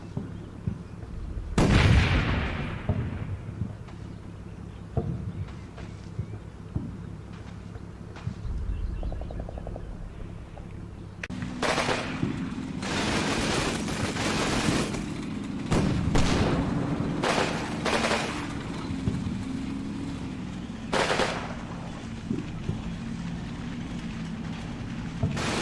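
Gunfire from a machine gun nest in the Combat Mission World War II game, rattling bursts and heavy booms that build into dense, loud volleys, with distant explosions rumbling between the shots.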